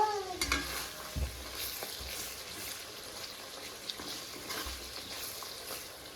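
Coriander leaves are stirred into koi fish curry frying in oil, making a steady sizzle with scraping stir strokes and a few clunks of the utensil against the pan.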